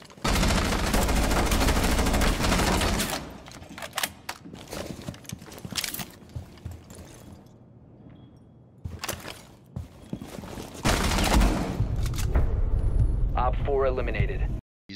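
Video game gunfire, loud rapid bursts of shots with impacts and footsteps, broken by quieter stretches, with a player talking throughout.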